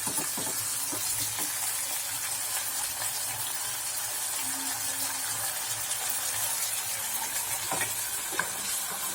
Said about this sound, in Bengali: এটা মশলাটা ভালো করে আমি কষিয়েছি এবং টমেটো পিউরিটা দিচ্ছি।